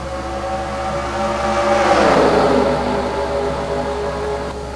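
Stock cars race at Blue Ridge in a video game, with a loud engine whine that swells as cars pass close around the midpoint, then holds as a steady high drone with a faint underlying rumble.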